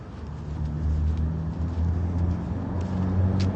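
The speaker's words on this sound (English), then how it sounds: "It's a loud green car." A loud green car passes close by a hospital parking lot entrance, a steady low engine rumble that swells and holds for a few seconds with no voices.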